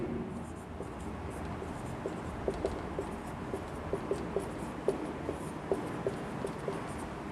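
Chalk writes a differential equation on a board in a live college math class. Quick taps and scratching strokes come in an uneven rhythm over a faint room hum, close by and fairly quiet.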